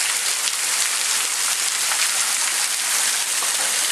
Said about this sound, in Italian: Stavo nel museo quando è cominciato a piovere